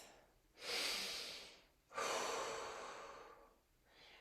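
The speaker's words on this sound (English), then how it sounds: "Take a breath." Two deep, audible breaths during an exercise class: a long inhale and exhale close to the microphone, then a fainter third breath at the end.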